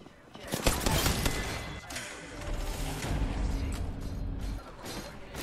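Rapid gunfire in Apex Legends during a ranked arena match, bursts of shots mixed with mechanical clatter, heard under excited players talking over voice chat.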